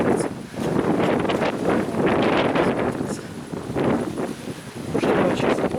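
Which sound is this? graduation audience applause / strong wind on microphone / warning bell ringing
strong wind on microphone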